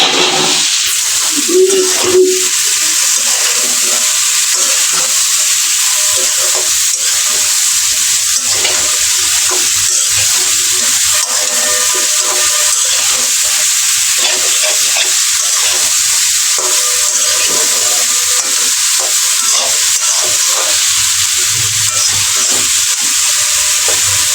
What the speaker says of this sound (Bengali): যেমন মাছটা দিয়ে ফেলছি, অলরেডি ফ্রাই হয়ে যাচ্ছে